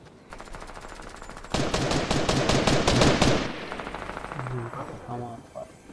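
Rapid automatic gunfire in the video game Fortnite, a dense burst that grows louder midway, then trails off into scattered quieter shots and game effects, with faint voices underneath.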